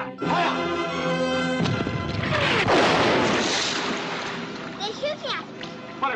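Naval gun fire and a big shell splash roar through a noisy battle scene from a 1942 film, a dense wash of booming and spray sweeping over voices and music.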